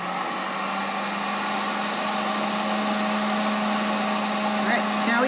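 An Ikawa sample coffee roaster roasts Honduras decaf, giving a steady, loud fan-driven whir with a low hum that holds constant throughout.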